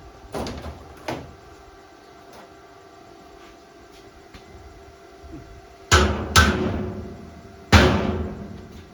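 Several sharp metallic knocks as a hammer drives a part out, a couple early on, then three heavier strikes spaced apart near the end, each with a short ringing decay.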